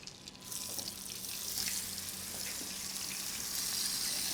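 Flour-dredged brook trout frying in butter and oil, a soft, steady sizzle that starts at once and holds evenly, fairly faint.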